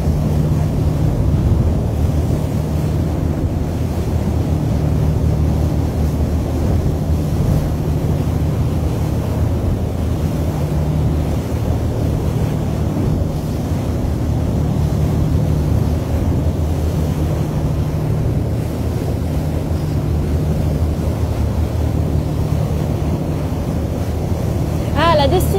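Strong wind roars continuously against the microphone on the deck of the MSC World America cruise ship at speed, a loud, steady low rumble with faint talking beneath it.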